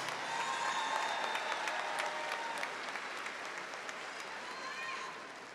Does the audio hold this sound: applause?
yes